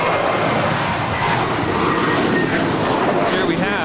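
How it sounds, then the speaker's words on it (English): A JetBlue Airways Airbus A321 departs Los Angeles International Airport bound for JFK, its jet roar loud and steady throughout while a voice talks over it. "This is JetBlue Airways flight 1124. It's an Airbus A321."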